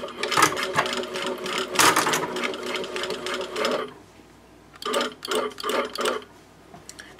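A Juki DDL 8000A industrial sewing machine stitches a pouch seam at 2.5 stitch length in a loud, close, continuous run, then stops and restarts with several short bursts.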